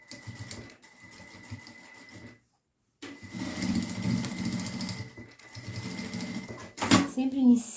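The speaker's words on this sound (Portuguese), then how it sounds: "vão fazer uma costura no tamanho de um pé de máquina" A domestic sewing machine stitches a side seam in fabric, running in short bursts of rapid mechanical whirring with a brief silent pause between runs, close by, with a voice talking over parts of it.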